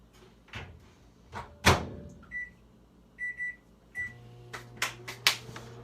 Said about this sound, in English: I'm gonna microwave it, get that cheese on the melt action.